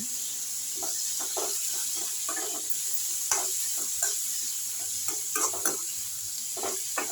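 Citron leaves sautéing in a pan for chutney, with a steady soft sizzle and repeated scraping stirs of a spoon against the pan, close and moderately loud with no talking.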